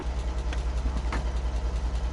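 A truck engine idling in a PS5 trucking game set on Alaskan roads, a steady low rumble with a regular pulsing throb, held even and close throughout with no talking.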